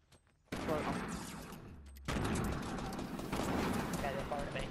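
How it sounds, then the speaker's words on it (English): Rapid gunfire in the shooter game Fortnite, a dense burst of shots starting abruptly and continuing loud and close, with a second surge midway and players' voices under it. "they're firing at me"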